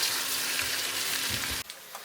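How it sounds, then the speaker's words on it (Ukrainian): Steady, loud sizzling of carrots frying in a pan, then the sizzle drops off abruptly near the end. "І додаємо моркву і також підсмажимо її хвилинки дві три."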